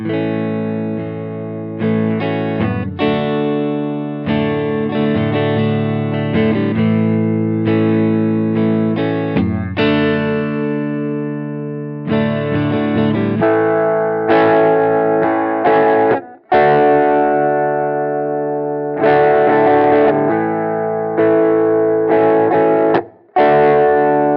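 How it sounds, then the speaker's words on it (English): An electric guitar through an EQ pedal with a thin, boxy, band-limited tone like a small old radio plays chords and short phrases, with brief pauses between them. "it sounds like you're playing through a radio. It's a really cool lo-fi sound."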